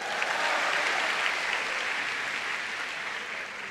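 An audience at an Indonesian stand-up comedy show breaks into dense, steady applause that holds for almost four seconds and then eases slightly, heard from within the crowd without any speech.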